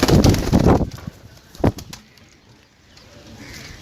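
Pigeons kept for sale give a burst of loud wing flapping and cooing up close, then a second brief flutter, fading to quiet background.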